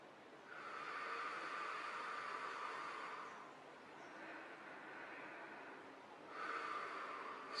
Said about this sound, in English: taking very deep breaths, holding those breaths, and then breathing out